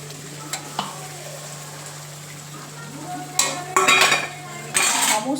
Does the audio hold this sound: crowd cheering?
no